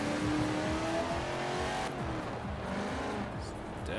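A stock 1996 Chevrolet Impala Super Sport engine in Forza Horizon 4 roars and revs at high pitch, shifting gears partway through, loud and continuous.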